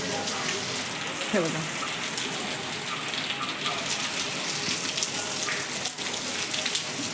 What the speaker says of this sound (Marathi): पाऊस खूप जोरात आहे बस पाऊस दाखवते आमच्या इथला